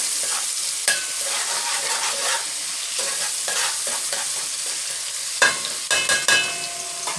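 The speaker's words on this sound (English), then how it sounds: "It's sizzling." Diced ham sizzles steadily in a frying pan on the stove while a spoon scrapes and stirs it, with a few sharper clatters of utensil against pan near the end.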